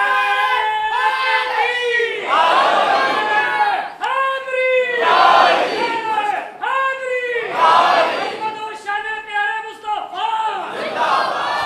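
A large crowd at a religious sermon gathering shouts a slogan response in unison, loud chanted bursts that come in repeated waves, one after another.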